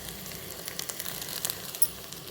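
Tempering of asafoetida, chopped coriander leaves and curry leaves in hot oil, a soft steady sizzle with small crackling pops that grow sharper toward the end, with no talk over it.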